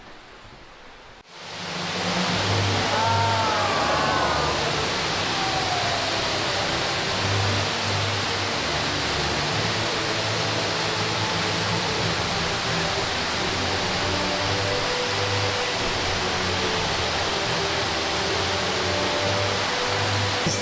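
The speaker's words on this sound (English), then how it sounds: "These falls are redonkulous." Ruby Falls, an underground waterfall deep inside a Tennessee cave 1,120 feet below the surface, roars steadily and loudly. The rush of falling water swells in after a brief quiet start and holds an even, enveloping wash.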